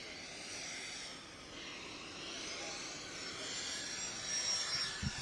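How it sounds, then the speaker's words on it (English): A distant aircraft engine drones steadily, slowly growing louder as the plane approaches to land in San Antonio, with a sharp knock near the end. "Sean, they're going to have water cannons for the plane when they come in"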